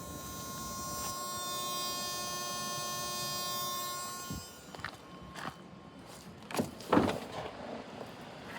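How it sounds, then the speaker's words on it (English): Hybrid system of a collision-damaged 2024 Toyota Sienna LE Hybrid hums with a steady electric whine for about four seconds, then cuts out, leaving faint clicks, knocks and handling noises close by. "And what you hear right now is the hybrid system running."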